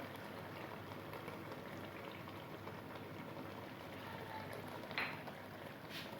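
Beef karahi masala fries in oil over a slow flame, a steady soft sizzle and bubbling crackle that holds evenly throughout, fairly faint and close, with no voices.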